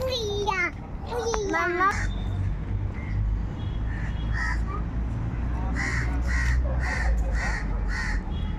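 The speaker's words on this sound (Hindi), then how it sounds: "कौवा नहीं है, कोयल बोल रही है।" Koel calling repeatedly in a park, a series of clear rising calls at moderate distance over a steady low rumble, with someone speaking briefly at the start.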